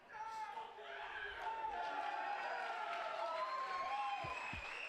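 Wrestling crowd at an FSW Future Shock show applauding and cheering for Dahmir Morningstar, a steady, full roar of clapping and crowd noise throughout, with commentary voices over it.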